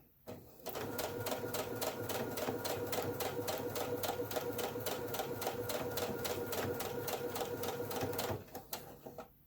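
A sewing machine runs steadily for about eight seconds, stitching across a fabric seam with a fast, even mechanical rattle of the needle, close and loud, then stops abruptly.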